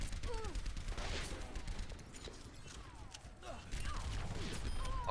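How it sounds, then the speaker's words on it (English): Gunfire crackles in the Overwatch video game, rapid bursts of shots at moderate distance mixed with mechanical clatter, heard fairly faintly with a steady game backdrop. "Shots fired."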